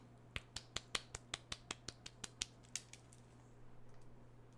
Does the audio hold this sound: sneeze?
no